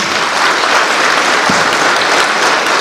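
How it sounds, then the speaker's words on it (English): A symposium audience on parliamentary politics claps to welcome a speaker, a loud, dense and continuous wash of applause from a large crowd throughout. "A big round of applause for sir, please"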